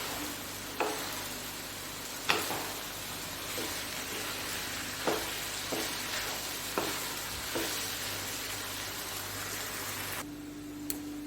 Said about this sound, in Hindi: अब इसमें मैंने भिंडी ऐड करना है। और मिक्स करें।